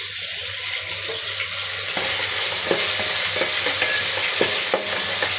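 Fish head, from a kingfish, frying in a pan, with a steady broadband sizzle that runs throughout. It grows louder after the first couple of seconds, and a few faint clicks and stirring scrapes sound over it.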